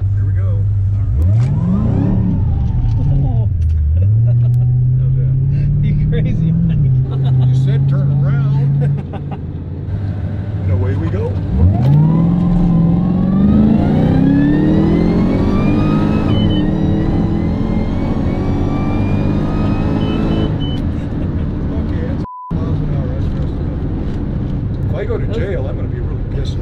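A supercharged V8 Subaru Forester accelerating hard on a street pull, its engine note climbing steadily through the gears, loud and close from inside the car, with brief voices in the cabin.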